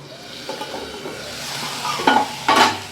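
Green beans sizzle in hot oil in a pan, catching slightly, as a spoon stirs them. Steady frying crackle runs throughout, with a few loud scraping stirs near the end.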